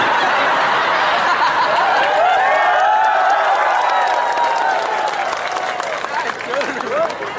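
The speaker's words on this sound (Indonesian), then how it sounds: "Itu tepuk tangannya" An audience at a religious sermon held at an Islamic boarding school in Senyerang claps steadily and loudly for several seconds, mixed with laughter and crowd chatter, tapering slightly toward the end.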